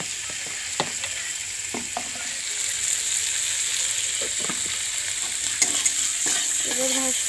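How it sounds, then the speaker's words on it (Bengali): Pasta ingredients fry with turmeric powder in a pan, giving a steady sizzle punctuated by scattered clinks and scrapes of stirring, growing a little louder partway through. "হলুদ গুঁড়ো দেওয়া হয়ে গেলে এবার ভাজতে থাকি লাল লাল করে।"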